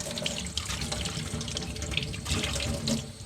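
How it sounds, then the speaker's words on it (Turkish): Cold tap water runs steadily into a sink as a moka pot coffee chamber is rinsed and swirled beneath it, a close, continuous splashing rush with small shifts in flow. "Şunu da şöyle yıkadık. Altında bir çalkaladık bu soğuk suyla."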